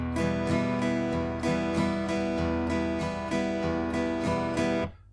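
Close acoustic guitar strumming a song's chords in an even, straight rhythm, with steady evenly spaced chord strokes that ring out alone before stopping abruptly.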